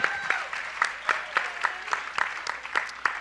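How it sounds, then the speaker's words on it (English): Scattered, fairly quiet applause from a small audience at a health discussion on vaccines, individual claps distinct and irregular over a few seconds. "Round of applause."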